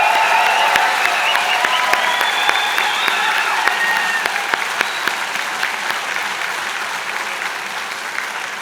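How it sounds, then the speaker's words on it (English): Loud, sustained applause from a convocation audience for the graduating class of 2019 at the Marshall School of Skilled Trades and Apprenticeship, a dense wash of clapping with whistles and cheers riding on top, slowly easing over several seconds. "how about one last huge round of applause and cheer for all the graduating class of 2019"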